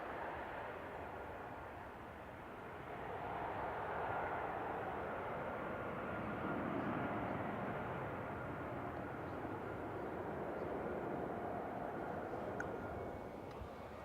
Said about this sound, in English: KLM Z2 is just taxiing across 23 right.